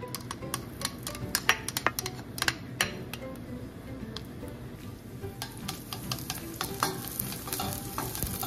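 Garlic sizzles steadily in hot cooking oil in a pan, with a broadband frying hiss and frequent sharp crackles and ticks of spatula stirring throughout, close and continuous.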